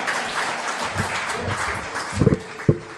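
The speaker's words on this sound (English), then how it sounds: "A round of applause as he goes back." A room of guests and family gives a round of applause as a general returns to his seat, a dense continuous wash of clapping with a few louder close claps and thumps toward the end.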